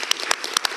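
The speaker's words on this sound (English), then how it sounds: "We can clap. Let's clap." A brief burst of scattered hand claps from a small group at a city council meeting, sharp and irregular.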